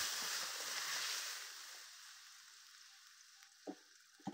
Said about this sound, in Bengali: এর ভিতরে এবার ডালটা ঢেলে দিলাম।